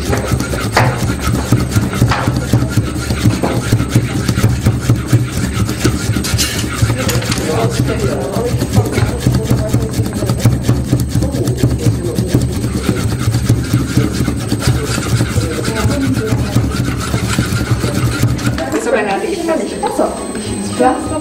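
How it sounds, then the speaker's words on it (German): A reed is planed with a patented round-blade planer knife on a Reeds 'n Stuff reedmaking machine, giving a continuous scraping, rasping sound with mechanical noise throughout. "Jetzt Beim Hobeln kommt das patentierte Rundmesser von Reeds & Stuff zum Einsatz."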